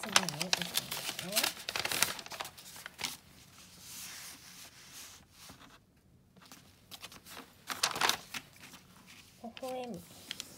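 Sheets of paper are folded for children's handwriting practice, making sharp crinkles and rustles in short bursts close by. Quiet pauses and brief speech come between the folds.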